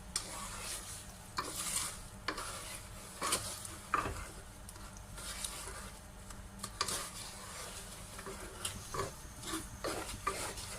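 A spoon stirring semolina as it roasts in a pan for milk halwa, giving repeated close scrapes and clinks over a soft continuous sizzle, with no talk.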